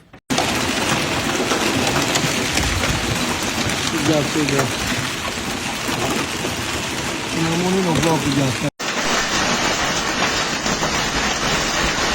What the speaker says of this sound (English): Thick hail with ice grains as big as walnuts hit the open field crops